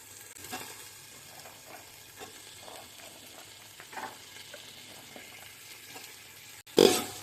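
Cut beans, carrot and green peas fry in a hot pan for vegetable dum biryani, giving a soft, steady sizzle with scattered stirring scrapes and a sharp, loud clatter of the pan near the end.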